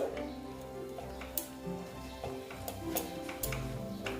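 Semolina is stirred in a pan after water is added, with light scraping and a few sharp clicks over a low, continuous sizzle.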